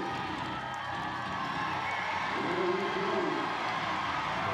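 A crowd at the Rogue Invitational deadlift event cheers in a steady, distant roar that swells slightly, with commentary talk running over it.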